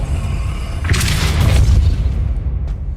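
A Depulso spell impact in Hogwarts Legacy lands as a loud, deep boom with a broad burst about a second in, rumbling on and then trailing off.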